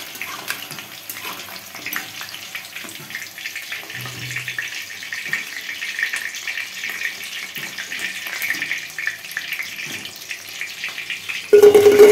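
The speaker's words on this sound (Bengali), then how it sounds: "তো এভাবেই আমি সব মাংসগুলো ভেজে নেব।" Pieces of chicken fry in hot oil for chilli chicken, a steady close hissing sizzle that runs throughout, with a sudden louder burst near the end.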